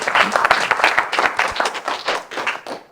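An audience claps as a speaker is introduced at a talk, with close, loud individual claps over a broader patter of hands, fading out toward the end.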